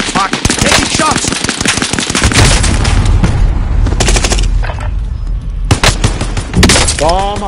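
Rapid automatic gunfire from the video game Warzone on the Caldera map rattles in loud, dense bursts, broken by short pauses and heavy booms, with voices talking over the shooting.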